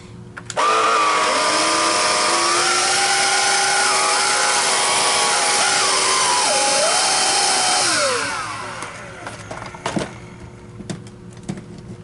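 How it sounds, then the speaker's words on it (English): A Hoover Lift-Away cordless vacuum cleaner runs with a steady high motor whine that shifts pitch as it works, then winds down at about eight seconds, leaving faint clicks and handling noise, close and alone. "One more test with the Hoover."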